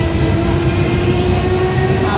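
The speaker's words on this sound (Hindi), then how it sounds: "हमने यहाँ से मेट्रो ली" Steady rumble of a Delhi metro train ride heard from inside the carriage, continuous and fairly loud with no pauses and no talking.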